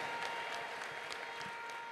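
Faint, distant applause from a church congregation, a soft continuous patter of many hands clapping at low volume throughout.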